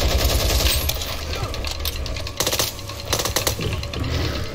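Shotgun blasts in the game Back 4 Blood, several sharp loud reports in an uneven burst mixed with rapid gunfire and clattering action, with a voice briefly over the chaos.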